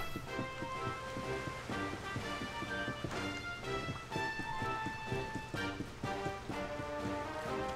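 Rain falling in Dragon Quest XI, a steady wash of patter heard behind layered music with bright sustained tones and soft rhythmic thuds.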